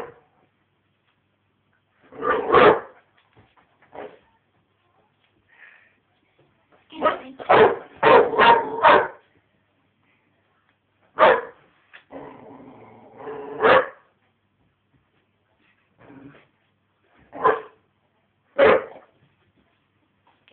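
A dog barks in short bursts of several yips and woofs, with pauses between them, fairly close, while people talk faintly in the room.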